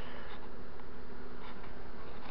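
Honey bees buzzing around a hive and boxes while a swarm is being settled back, a steady close, dense hum filling the whole moment with no voices.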